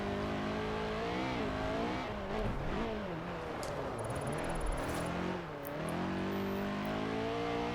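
An underpowered car's engine in Forza Horizon 4, revving up and down through gear changes with a raspy, motorbike-like drone, loud and continuous throughout.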